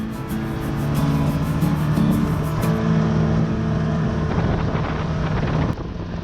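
A Can-Am Maverick side-by-side rumbles along a trail with a steady engine drone and tire noise, wind buffeting the microphone throughout.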